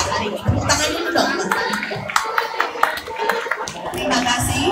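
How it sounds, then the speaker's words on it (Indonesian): Students clapping at a school event for the class 12 organising committee, dense lively applause running throughout with children's voices and chatter mixed in. "Tepuk tangan dulu dong."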